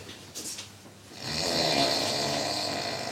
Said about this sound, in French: Eh ben, quoi, il ronfle, oui,